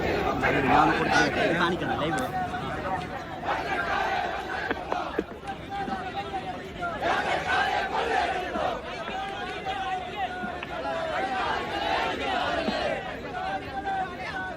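A large crowd of local residents protests against a toll plaza on the Kasaragod–Mangaluru national highway at Kumbla, with continuous loud chatter, overlapping shouts and babble filling the scene at close range.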